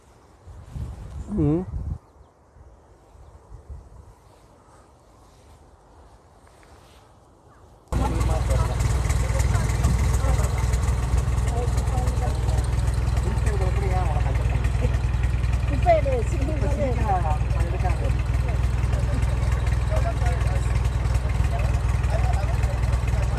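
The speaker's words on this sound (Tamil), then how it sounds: "டிராக்டர் கிளம்பியாச்சுங்க." A steady, loud tractor engine drones close by after a few seconds of quieter sounds, running continuously with a constant low rumble.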